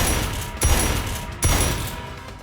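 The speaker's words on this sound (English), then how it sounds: "The Slick Shotgun is Heavy's debut weapon." Two heavy shotgun blasts from the Slick Shotgun in an indie video game, spaced under a second apart, each a sharp boom over a dense, continuous layer of game noise.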